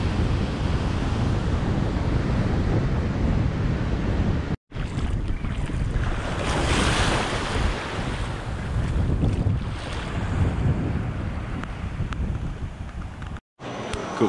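Ocean surf rolls onto a beach on Jeju Island, a broad continuous wash of waves heavily mixed with wind buffeting the microphone, with no voices.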